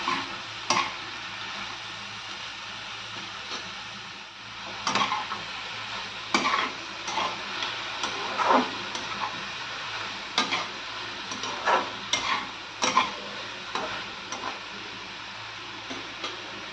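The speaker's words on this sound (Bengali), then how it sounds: "অল্প একটু সোয়া সস দিলাম, আর অল্প একটু চিনি দিয়ে দিলাম, দিয়ে এটাকে ভালো করে সাঁতলালাম।" Chicken sausage and mushrooms sautéing with soy sauce and sugar, a low steady sizzle broken by intermittent spoon scrapes and clinks against the pan.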